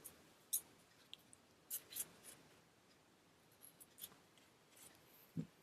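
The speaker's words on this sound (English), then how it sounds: "so cut off one of the check boxes and bring it in" Scissors cutting a checkbox sticker for a paper planner: a series of quiet, close, crisp snips spaced irregularly, with faint paper rubbing between them and no talking.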